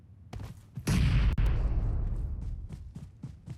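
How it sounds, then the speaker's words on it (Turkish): A grenade blast in the mobile battle royale game PUBG Mobile: one loud broadband boom that cuts in sharply and rolls on as a long, dense rumble, with a few softer thumps and pops around it. "Bomba atıyor."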